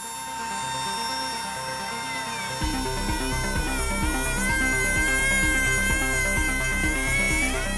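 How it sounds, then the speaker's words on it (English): A drill bores into the bearing mount of an airliner wing during heavy maintenance, the strong metal wearing the bits; a steady high whine with shifting pitch runs throughout, joined partway by a heavier grinding, chattering layer. "Andre has to drill into the bearing's mount to replace it."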